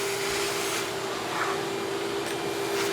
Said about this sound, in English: The vacuum squeals from the suction.